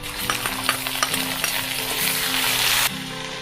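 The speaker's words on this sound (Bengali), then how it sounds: "এখন আমি এখানে দিয়ে দিচ্ছি চিংড়ি মাছ।" Small local prawns hit a hot frying pan with a loud, steady sizzle, with a few stirring clinks and scrapes through it before the frying noise drops off near the end.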